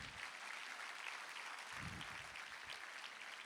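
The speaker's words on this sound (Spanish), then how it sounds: "Dele un aplauso a Jesús" A church congregation applauding during a Spanish-language sermon, a steady wash of faint, distant clapping that holds evenly throughout, with a few low murmurs beneath it.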